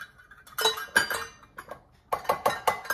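Metal or glass measuring cup scooping flour from a container, a series of close clinking knocks and scrapes in two quick clusters, with no voices.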